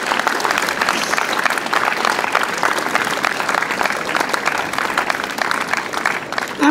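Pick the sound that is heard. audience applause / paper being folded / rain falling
audience applause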